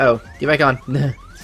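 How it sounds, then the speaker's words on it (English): Repeated electronic beeping in a Kingdom Hearts Birth By Sleep HD Aqua air-glide sequence, a rising tone sweeping up several times in quick succession under a voice talking over the game. "I apologize about the incessant beeping!"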